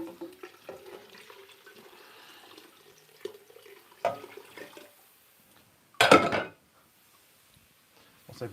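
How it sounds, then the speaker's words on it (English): Water from a kitchen tap gushes into a cooking pot for about half a second, loud and close, after a stretch of quiet clattering and small kitchen knocks. "Let's add a bit more water in."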